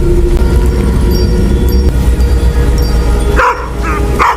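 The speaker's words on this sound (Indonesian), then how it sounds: "terus menggonggong ke arah pohon bangkotan" A dog keeps barking toward an old tree, its barks rising over a loud, steady wash of background sound, with a couple of sharper yelps near the end.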